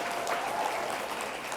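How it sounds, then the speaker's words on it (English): A school anniversary audience applauds a staff member, a brief, even burst of clapping filling the whole moment with no voices on top. "So if we could give her one round of applause."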